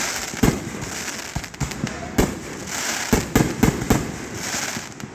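Fireworks burst near a bridge in a rapid, uneven string of sharp bangs and crackles, some close and loud, over a constant hiss of crowd and outdoor noise.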